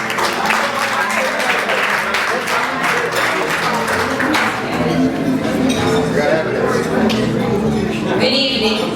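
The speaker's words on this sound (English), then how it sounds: "Let's give her a great round of applause." Audience applause fills a wedding reception hall, a steady dense wash of clapping with some glass clinks, loud and continuous throughout with faint voices mixed in.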